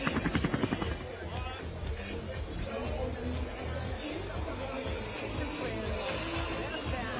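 Helicopter above a mountain bike stage race near the Carmel Ridge by Haifa, its rotor a rapid thumping at first that settles into a steady drone under talk.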